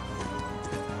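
Horse hooves gallop in a horse racing video game, a continuous rhythmic clip-clop under game music and effects, steady and moderately loud over a brief stretch.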